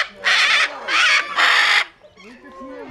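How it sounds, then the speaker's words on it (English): Parrots at a parrot park give three loud, harsh squawks in quick succession, each lasting about half a second, followed by softer chatter and calls nearby. "Those birds are intimidating."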